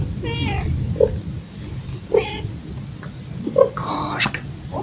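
A cat meows several times in short, separate calls outdoors at a monastery in Pereslavl-Zalessky, each cry close and fairly clear over a low background rumble, with a brief louder burst of noise near the end.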